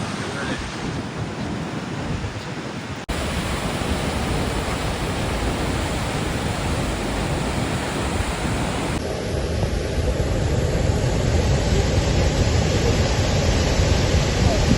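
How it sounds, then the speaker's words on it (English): Continuous loud rushing roar of a waterfall on a remote island, a steady broadband wash that swells slightly partway through, with wind buffeting the microphone and no voices. "Let me let you enjoy the splendour and sound of the waterfall for a moment."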